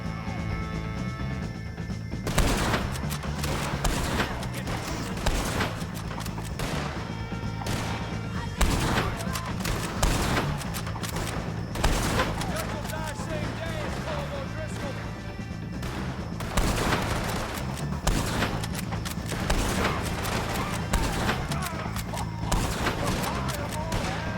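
Gunfire in Red Dead Redemption 2 as shots are aimed at O'Driscoll gang members: dense, continuous bursts of shots and impacts over a game soundtrack, sustained throughout with voices mixed in.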